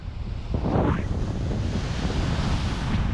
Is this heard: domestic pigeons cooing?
no